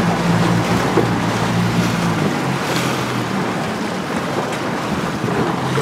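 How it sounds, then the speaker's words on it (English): Strong wind roars continuously across the microphone aboard a racing sailboat in club series racing on the water, with waves and hull noise underneath, loud and steady throughout. "It's really windy, and these are short legs, so everyone's workload is pretty high."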